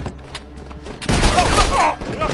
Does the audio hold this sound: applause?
no